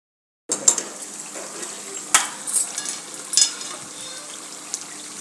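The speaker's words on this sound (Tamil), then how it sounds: "இஞ்சி பூண்டு விழுது நல்லா வதங்கிடுச்சு" Ginger garlic paste sautéing in a pan for tawa masala gives a steady close sizzle with light scraping stirs and occasional clinks, and no voices.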